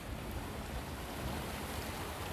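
Ocean waves at a clear-water beach on Nusa Penida make a continuous broad rushing wash, with wind-like noise, steady and fairly full with no distinct breaks.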